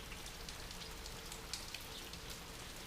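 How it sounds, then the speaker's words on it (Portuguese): Light, calm rain falls on a house roof in the dry Bahia backcountry, a faint continuous hiss of drops with occasional slightly louder individual taps, no wind or thunder. "Acordei com o barulho da chuva no telhado."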